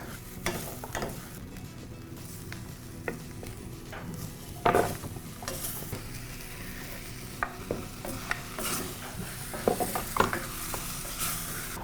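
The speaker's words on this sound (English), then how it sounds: "So while the tempeh is frying away, I'm just going to add in some scallions and chili in on top of" Tempeh fries in a pan with scallions and chili added on top, giving a steady low sizzle broken by scattered scrapes and stirring clicks, fairly quiet and without talk.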